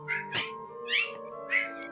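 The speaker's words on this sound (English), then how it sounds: "The cat followed us." A cat meows four times in close succession, fairly loud and near, each call rising and falling over a steady background hum, with no speech over it.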